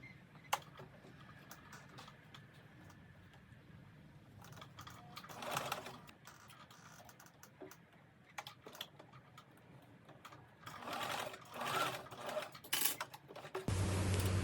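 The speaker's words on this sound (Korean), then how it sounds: "바느질입니다" Sewing machine stitching a button-front dress where skirt and bodice join, a faint mechanical whir with bursts of rapid needle clatter, quiet at first and growing busier and louder toward the end.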